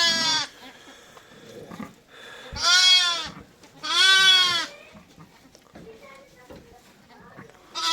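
Twin lambs bleat in loud, wavering cries, two clear calls close by with fainter bleats and soft farmyard noise between them.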